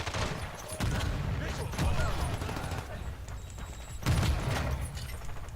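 Gunfire in the video game Warzone 2, rapid bursts of shots with a couple of louder blasts, up close, with a voice talking over parts of it.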